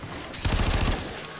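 Rapid automatic gunfire from the video game Warframe bursts loud and dense for about half a second, then fades back into a busy game soundscape.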